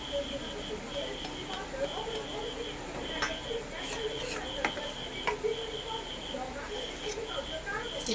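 Poa pitha frying in hot oil until reddish, giving a steady close sizzle with scattered crackles and pops throughout, with faint voices in the background.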